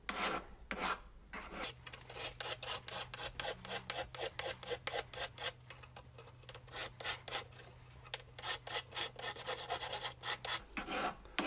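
A green Scotch-Brite pad rubs steadily over a carved wax signet ring, giving dense rapid back-and-forth scratchy strokes throughout, close and fairly quiet, with no talking.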